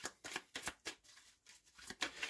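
Tarot and oracle cards being laid down one after another on a table, a series of soft, close papery slaps and slides in an irregular rhythm with no talking.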